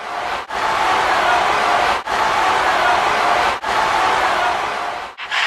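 A wrestling crowd roars steadily and loudly in a packed arena, the cheering sustained at full volume with a few brief dips and no one speaking over it.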